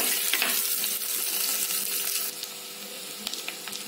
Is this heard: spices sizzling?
yes